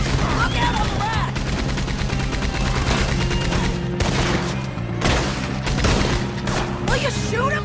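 Gunfire in Red Dead Redemption 2, rapid overlapping rifle and pistol shots in a loud chaotic firefight, with sharp cracks and a few brief gaps, and voices shouting amid the shooting.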